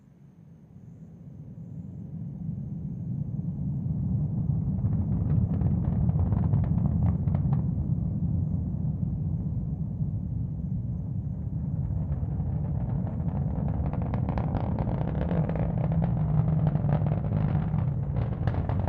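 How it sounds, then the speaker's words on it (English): A SpaceX Falcon rocket launching 28 Starlink satellites from Cape Canaveral produces a deep, continuous rumble that swells in the first few seconds and then holds steady, with crackling texture growing later, distant and alone. "we should hear a little bit of the rumble of the engines near the tail end of this one."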